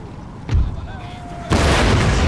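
Canister shot artillery fire in the video game Empire: Total War, a sharp boom near the half-second mark followed by a louder, sustained blast of gunfire and rumbling, with game sounds underneath.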